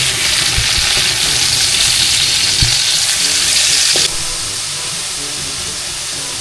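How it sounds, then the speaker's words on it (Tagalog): Ground meat hits a hot oiled pan, breaking into a loud, close sizzle with a few sharp clanks of a spoon stirring, the hiss then settling to a softer, steady frying level. "At ilalagay na rin po natin itong giniling na karne"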